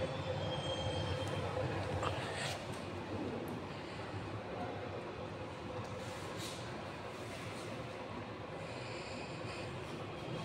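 An automatic rolling thin film oven in a laboratory starts rotating at 15 RPM, giving a continuous mechanical hum and rumble at an even level with faint rattles.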